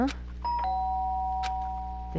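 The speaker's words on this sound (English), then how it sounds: "The sharp sound of the doorbell pierced my sleeping haze and pulled me back to the real world" A doorbell rings in the video game Danganronpa, one clear electronic ding-dong chime whose tone holds and fades over about two seconds, fairly loud.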